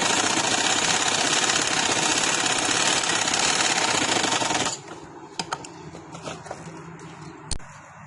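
A sewing machine runs a steady, loud stitching burst while sewing a double seam on a garment neckline, then stops abruptly, followed by faint clicks and handling noises of fabric.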